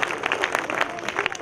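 Brief, moderately loud applause from a stage-show audience in honour of a Nandi award winner, a dense patter of many hands clapping close by.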